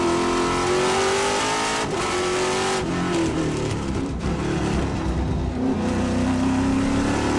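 Trans Am race car engine screaming at high revs from the on-board position at Portland, holding a loud sustained drone with pitch rising and dropping through gear changes, briefly easing off before winding up again.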